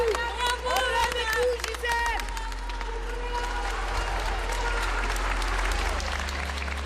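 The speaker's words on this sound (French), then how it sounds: "spontanément, la foule acclame la septuagénaire" A crowd outside a courthouse erupts in sustained cheering and applause as a woman in her seventies leaves, dense clapping and voices continuing steadily throughout.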